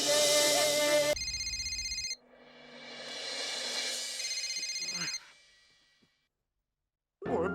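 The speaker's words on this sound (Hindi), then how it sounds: "पिंकू फोन क्यों नहीं उठा रहा है?" Telephone ringing indoors, a loud electronic ringtone that changes pattern midway, then fades and falls silent before starting again briefly.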